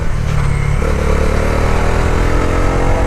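A Bajaj Dominar 350 motorcycle engine rises in pitch as the throttle is twisted, a close, loud mid-range growl that climbs steadily over a few seconds with no voices.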